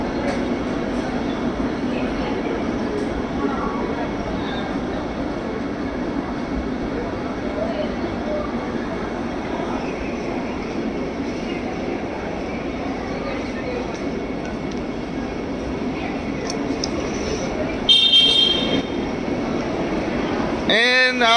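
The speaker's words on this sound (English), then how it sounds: "This is the train I was on." A train rumbles steadily at Chennai railway station in the early morning, a continuous low mechanical drone with a brief metallic clank late on, close and loud under faint background voices.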